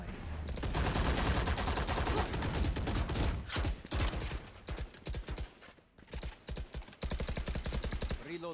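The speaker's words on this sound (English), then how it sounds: "I love the sound of this gun" Rapid automatic gunfire from a weapon in a competitive shooter game, dense sustained bursts with brief gaps, loud and close throughout.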